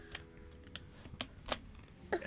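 Several isolated keystrokes on a computer keyboard, sparse and irregular taps spread over a couple of seconds, close and fairly quiet against a faint background.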